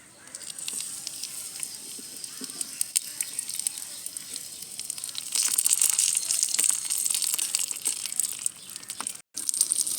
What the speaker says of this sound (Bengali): এগুলো ভাজা হয়ে গেছে, এবার দিয়ে দেবো করমচাগুলো।